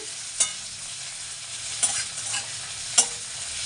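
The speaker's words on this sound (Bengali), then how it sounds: "পেঁয়াজ টমেটো সবার মধ্যে দিয়ে একটু ভেজে নিচ্ছি" Onion and tomato fry with spices in a pan, a steady close sizzle broken by three sharp stirring scrapes spaced about a second apart.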